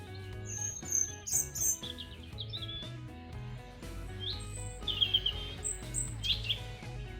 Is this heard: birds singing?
yes